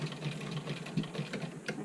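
A hand-crank sewing machine stitching fabric while a young child works it, a soft, steady run of quick mechanical clicks and whirring for about two seconds, close and fairly quiet.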